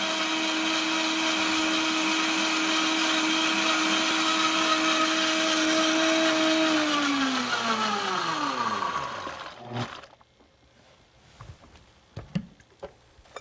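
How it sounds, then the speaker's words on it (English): A Vitamix Professional Series 750 blender chops ginger at high variable speed, its motor a loud, steady whirring roar that then winds down in a falling whine and stops, followed by a few faint clicks and knocks. "switch the machine to start, and slowly increase the speed to variable 8. Blend this for 20 seconds or until you see that the ginger is finally chopped"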